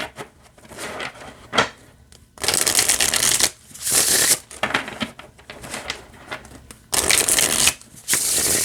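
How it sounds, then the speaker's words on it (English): Repeated riffle shuffles of a tarot deck, close and crisp, each burst lasting about a second, separated by softer handling clicks. "it feels really good in the hand to shuffle"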